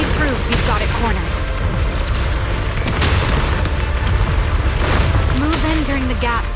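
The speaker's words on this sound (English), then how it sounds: "Move in during the gaps between explosions." Repeated loud booming explosion blasts in the video game Zenless Zone Zero over a dense, rumbling game soundtrack, with bursts of electronic effects throughout.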